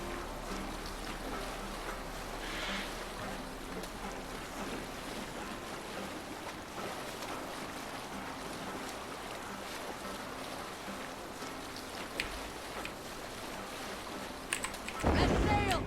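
Viking longship under sail in Assassin's Creed Valhalla, a steady wash of waves and wind around the hull, with a sudden louder splash at the end.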